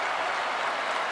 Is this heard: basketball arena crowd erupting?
yes